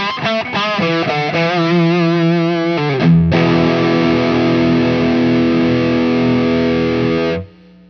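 An electric guitar runs through an overdrive pedal with the gain turned up, strumming a few choppy chords and then letting one gritty, sustained chord ring loud before it cuts off.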